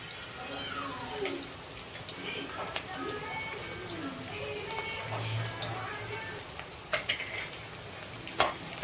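Garlic and onions fry in a pan with a faint, steady sizzle and occasional stirring clinks, while a person talks over it.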